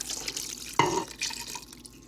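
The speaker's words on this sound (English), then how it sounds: "we're going to go ahead and put in that sauce that we made. We're going to pour that all about." Adobo sauce poured into an Instant Pot over chicken, a short splashing glug of liquid landing in the pot, close and moderately loud, with no talk.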